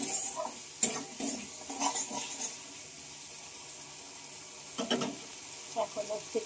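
Spice paste scraped and stirred in a pan as it fries, with scattered scraping strokes and a faint sizzle, quiet and close, with no talk.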